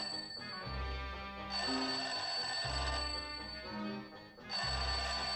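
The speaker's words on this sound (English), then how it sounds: "Sounds like the phone to me." Old-fashioned telephone bell ringing in a Halloween radio drama: loud, clattering rings in three long bursts separated by brief pauses, near and alone with no voices.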